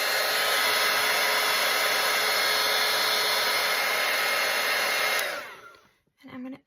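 A hair dryer runs loud and steady at close range, drying paint on a small handmade Christmas manger, then cuts off near the end, followed by a brief soft handling sound.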